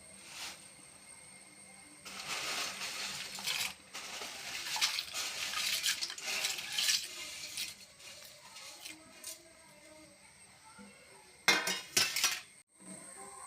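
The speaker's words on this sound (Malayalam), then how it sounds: "ഇളക്കി കൊടുക്കാം." Ada rice flakes stirred in boiling water in a pot for payasam, with repeated metallic scrapes and clinks of a spoon against the pot in bursts, close by and moderately loud, fading to quiet pauses in between.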